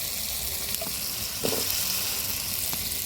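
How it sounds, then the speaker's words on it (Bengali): Washed, chopped cabbage drops into a hot pan in a village kitchen and crackles into a steady, close sizzle, with a brief louder burst around the middle as the pieces hit the oil. "এবার এই যে কেটে ধুয়ে রাখা সবজিটা দিয়ে দিবি"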